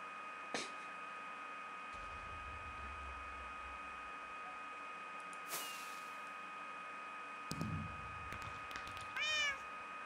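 A cat meows in a Block Hunt hide-and-seek video game, a short synthetic mew near the end over a steady hum of game background tones and a few clicks.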